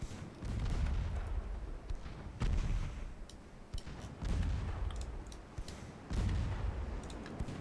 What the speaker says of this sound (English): Takes a while to kill a transport with a 3-inch gun